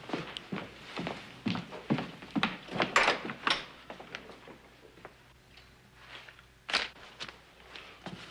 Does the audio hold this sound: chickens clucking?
no